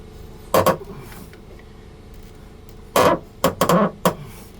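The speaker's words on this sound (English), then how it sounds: "Grab a hammer." Several sharp metallic strikes ring out, one early and then a quick cluster of three or four blows, close and loud, hammering on a corroded Mercury power steering line on a Boston Whaler boat.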